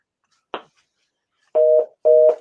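A telephone line tone sounds after a dropped call on a radio show: two steady, clear tone bursts of about a quarter second each, following a brief earlier click of line noise, with no talk over them.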